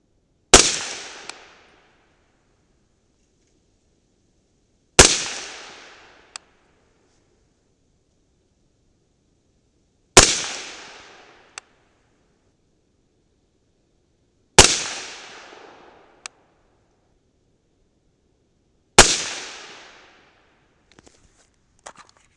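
A 300 Blackout rifle fires five sharp, loud shots spaced about five seconds apart as it feeds rounds, each report followed by a short decay and a faint mechanical click.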